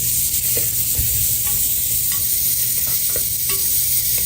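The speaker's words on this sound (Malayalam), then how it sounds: "അതപ്പം നമുക്കൊന്ന് എണ്ണയ്ക്കകത്തിട്ടൊന്ന് വഴറ്റിയെടുക്കാം." Ginger, garlic and green chilli paste sizzles steadily in hot oil inside a pressure cooker, a continuous frying hiss with a few soft stirring scrapes and clicks, close and alone with no talk.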